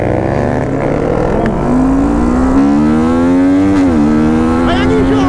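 A 330cc motorcycle engine revs up hard, accelerating toward 200 km/h on a straight, its pitch climbing steadily with a brief dip before rising again, loud and close with a voice in the background.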